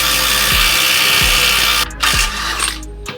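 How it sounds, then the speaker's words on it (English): An impact driver works on a car's wheel bearing nut, a loud, close, sustained hammering whir broken into a few short bursts near the end. "let's use the impact driver and try get this nut off"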